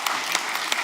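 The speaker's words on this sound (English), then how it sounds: "Let's give them a clap" Applause from an audience at a live tech conference, a brief burst of steady clapping with no one talking.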